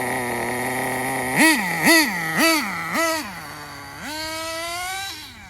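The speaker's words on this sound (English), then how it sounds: "I definitely need to tune the engine." A HotBodies Tornado RC car with a nitro engine that needs tuning, left unused for two years, gives four sharp, loud throttle blips that rise and fall, then a longer sustained rev that gradually winds down, close and alone.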